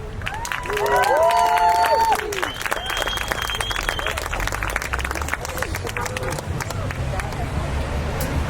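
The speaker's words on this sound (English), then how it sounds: "So please give a big round of applause" An audience at a Los Angeles event applauds a speaker, with a burst of whistles and cheers at the start. Steady clapping and crowd murmur continue afterward.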